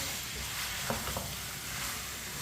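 Spoon stirring tinda and chicken in a pan, a soft steady sizzle with a couple of faint scraping clicks, close and alone without talk.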